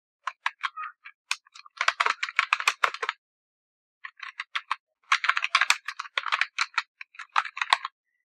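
Typing on a computer keyboard while filling in an online form, rapid bursts of crisp close key clicks with a short pause in the middle, alone in a quiet room.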